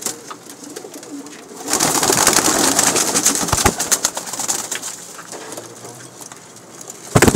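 Pigeons coo in a loft kept for breeding pairs, a soft murmuring chorus with flapping and light patter, fairly close and steady throughout.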